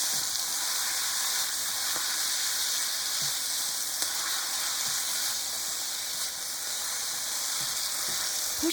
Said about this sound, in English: Stir the mixture until thoroughly combined. It should take about 15 to 20 seconds.